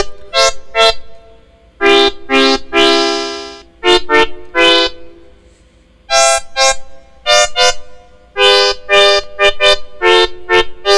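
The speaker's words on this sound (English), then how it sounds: "I can switch that to sawtooth here to give it a bit more harmonic content." Paraphonic synthesizer with sawtooth oscillators driven through a GMS-742a MIDI CV converter, playing bright, buzzy, horn-like notes and short chords in a steady, loud rhythmic pattern of stabs and held tones.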